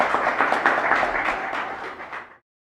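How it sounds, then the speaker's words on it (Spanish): An audience applauds a lecturer at the close of a philosophy school talk on the sociology of leisure, a dense burst of clapping that holds for about two seconds and then fades out abruptly. "Te dedicamos el último aplauso porque te lo mereces"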